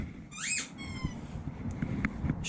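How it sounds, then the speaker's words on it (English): A dog chews a squeaky ball toy in a workshop, giving two sharp rising squeaks early on, followed by softer chewing clicks and rustling. "Bloody dog of mine and a squeaky ball."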